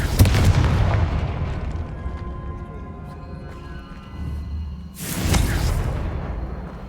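Confringo fire spell explosions in the video game Hogwarts Legacy: a loud booming burst opens, a rumbling roar fades over several seconds, then a second whooshing blast hits near the end, with no talk.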